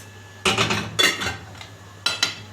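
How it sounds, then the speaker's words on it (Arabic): Cooked food and taro are emptied into a clay tagine pot, with a few close clattering scrapes and clinks of a utensil against the pot in two short bursts over a quiet room hum, with no talk. "وهنجيب بقى ايه الطاجن بتاعنا الحلو ده وهنفرغ كل ده"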